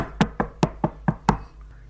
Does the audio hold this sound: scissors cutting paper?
no